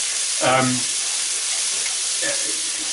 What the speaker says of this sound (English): You just keep stirring this now, really, just keep stirring it and stirring it.